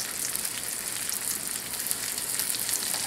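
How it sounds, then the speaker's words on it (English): Sauce simmers in a pan with a steady, even sizzle and crackle, like light rain, and no talking. "our sauce is simmering"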